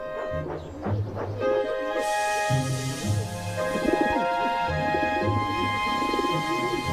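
Doves at a farm dovecote coo softly in a game scene, their low calls woven under a gentle musical backing that runs throughout.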